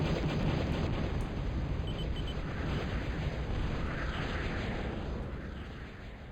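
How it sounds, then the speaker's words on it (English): In a video game, a bomber strikes an aircraft plant, producing a dense, sustained roar of explosions that fades slightly toward the end. "he is actually trying to bomb down that aircraft plant"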